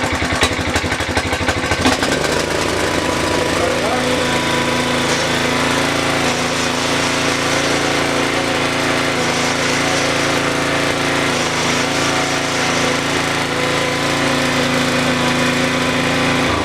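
A rotary tiller powered by a Tecumseh engine runs steadily and loud, its engine note holding a constant drone after a rougher start, with no voices over it.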